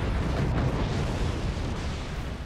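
An EMP rocket weapon fires and detonates in the physics-based fort battle game Forts, producing a loud, continuous explosive roar and rumble that fills the whole moment.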